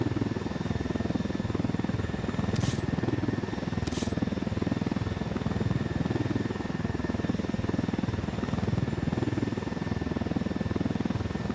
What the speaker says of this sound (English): So once you're in a hover, you can really control the helicopter.